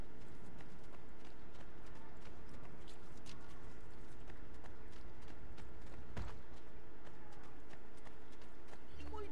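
Horse hooves clip-clop in Assassin's Creed 2, a steady, near trotting rhythm under game ambience with someone speaking over it.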